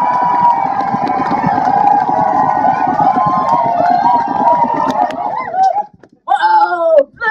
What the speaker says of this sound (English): you are going to shout and yell and stomp your feet and clap and do everything that you possibly can at the loudest you can